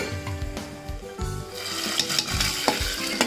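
Chili and garlic browning in a hot pan with onion, a close crackling sizzle broken by scraping stirs of a spoon against the metal, lively and uneven, with no talking.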